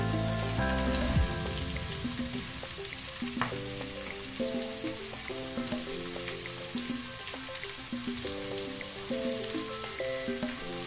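Carrot and capsicum being stir-fried on full flame for egg fried rice, a steady, close sizzle with light stirring scrapes throughout, no talking, and faint tonal music running underneath.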